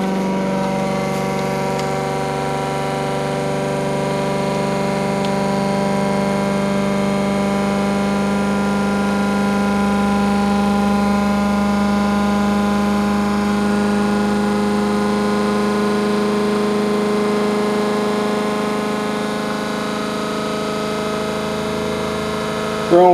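Steady, continuous whine and hum of a homemade motor built with three stacked neodymium magnets, running on one battery at about 1500 RPM, with strong tonal harmonics holding constant throughout; close and loud, without talk.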